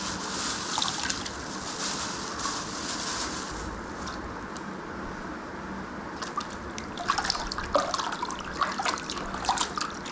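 Hot water from a geyser running into a tub of salted water for soaking sore feet, a steady close rushing splash for about ten seconds.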